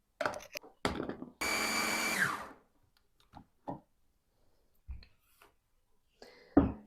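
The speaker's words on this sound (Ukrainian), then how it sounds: "І це все потрібно перебити блендером." A blender whirs loudly for about a second, blending sprats in tomato sauce, with short clattering knocks and bumps before and after it.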